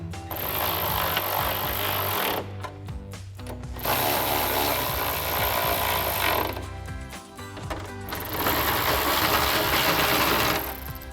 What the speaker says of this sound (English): Now we can tighten this down using our 10mm socket.